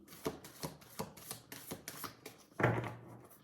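Tarot cards are shuffled in a steady run of soft, quick riffles and taps close by, ending in a slightly louder burst of handling, with no speaking.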